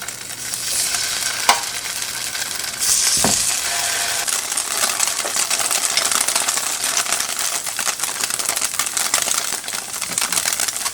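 Tofu jeon, egg-coated tofu slices for a holiday meal, fries in an oiled pan with a constant, fairly loud sizzle and crackle. A couple of brief clinks and taps break through early on.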